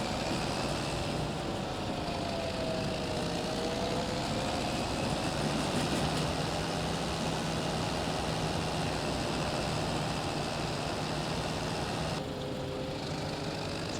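A Massey Ferguson 8S tractor driving in Farming Simulator 25, a steady droning engine hum with a faint gliding whine, running evenly throughout.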